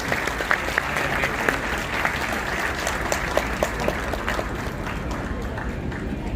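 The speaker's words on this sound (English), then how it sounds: "please give a thunderous round of applause to sir" A hall audience at a dental college white coat ceremony gives sustained applause, a steady roar of many hands with a few sharper individual claps standing out, fairly distant and even throughout.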